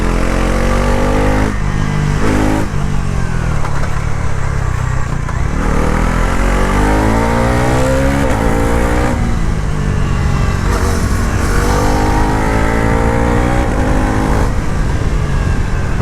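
A 2026 Bajaj Pulsar NS 350z motorcycle pulls hard to high revs, its engine note climbing steadily and loud with rising harmonic sweeps, briefly dipping between gears before revving up again, close and continuous with no talk.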